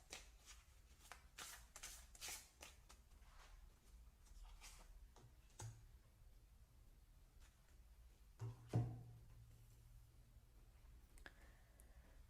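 Oracle cards are shuffled in a quiet room, giving soft repeated riffling flutters and light clicks in uneven bursts, faint and close without talk.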